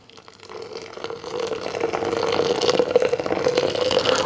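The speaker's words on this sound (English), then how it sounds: "So we're gonna pour it over our coffee beans just like this." Hot water poured over coffee grounds in a French press makes a steady, rising stream of splashing and gurgling that grows louder and fuller as the vessel fills.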